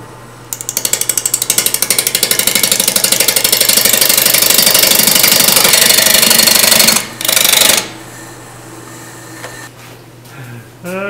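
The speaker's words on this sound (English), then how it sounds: "I'm going to use my 1/8 inch parting tool and work my way down to this area right in here." A 1/8 inch parting tool cuts into a natural-edge ash bowl spinning on a wood lathe, giving a loud, rapid, chattering rattle that holds for several seconds, breaks off briefly, then resumes before a quieter tail.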